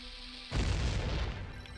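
A bomb goes off in Zelda: Ocarina of Time with a sudden loud boom after a quiet moment, followed by a rumbling tail that slowly fades away.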